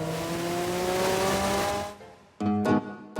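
A 1979 Porsche 911 Turbo drives by with a loud engine drone that fades away, then returns in short, sharp bursts of revving near the end.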